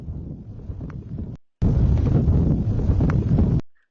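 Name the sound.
volcano explosion sound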